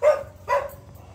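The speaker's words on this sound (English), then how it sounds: "Just what are you barking about?" A dog gives two short, sharp barks in quick succession, close by and heard on its own.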